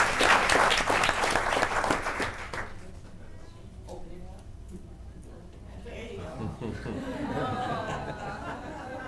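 A school board meeting audience applauds a row of 7th grade students of the month, loud and dense clapping for about two and a half seconds, then fading into scattered claps and murmuring room chatter with a voice speaking.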